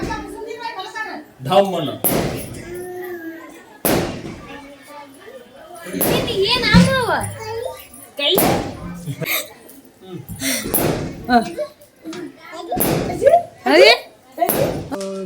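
Firecrackers burst one after another at a village chariot festival fair, sharp loud bangs spaced every second or two, with people talking between and over the blasts.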